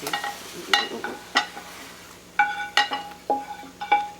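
Baby bella mushrooms in a savory marinade being stirred in a pan, with a spoon clinking and scraping against the pan in irregular close bursts over a faint sizzle, without talk.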